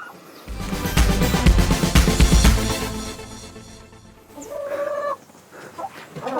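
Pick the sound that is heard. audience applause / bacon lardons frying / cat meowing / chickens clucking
chickens clucking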